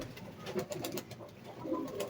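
Pigeons in a loft on a cold, rainy morning coo softly at close range, with a low, muffled burble rising and falling over faint background noise.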